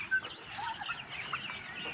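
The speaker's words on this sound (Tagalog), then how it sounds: "Nagpapatuka ng mga manok." Chickens cluck steadily at a small backyard farm during morning or afternoon feeding, a close, busy flock chatter with overlapping calls.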